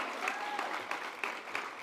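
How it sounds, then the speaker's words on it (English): A crowd applauds at an alumni awards event, a dense wash of clapping heard from a modest distance with a few sharper claps standing out. "A round of applause for Josh and Sarah."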